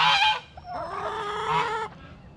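A family of geese honking at a feeding spot, a loud nasal honk followed by a longer drawn-out call that trails off, close and clear.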